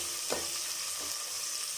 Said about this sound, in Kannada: ಈರುಳ್ಳಿ ಕಲರ್ ಚೇಂಜ್ ಆಗೋವರೆಗೂ ಫ್ರೈ ಮಾಡ್ಕೊಳ್ಳೋಣ.